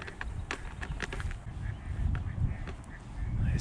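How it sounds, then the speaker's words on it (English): Ducks calling near floodwater along a swollen river, with short quacks scattered over a steady rush of water and wind noise. "Oh, we got ducks over here."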